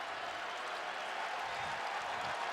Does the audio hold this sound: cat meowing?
no